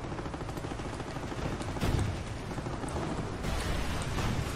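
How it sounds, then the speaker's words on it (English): Heavy tank cannon fire with armor-piercing shells in the strategy game Company of Heroes, a couple of booming blasts rising out of a constant roar of battle noise and distant gunfire. "Armor-piercing shells. Fire!"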